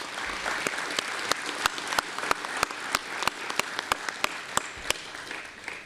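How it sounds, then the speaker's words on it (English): Applause from a press conference audience, a steady wash of clapping with sharp individual claps standing out at a fairly even pace, moderately loud and continuous throughout. "they deserve a round of applause"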